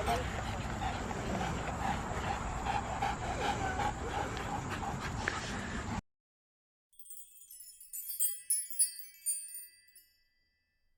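A small dog pants and whimpers close by, with people talking over a noisy few seconds; after a pause come a few thin, high-pitched sounds.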